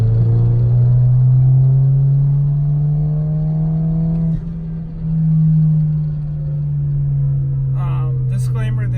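A 034 Motorsport Stage II tuned Audi B9 A4 with a 6-speed manual pulls hard in third gear from low RPM. The engine drones steadily and rises gradually, dips briefly midway and then swells again, heard loud from inside the car.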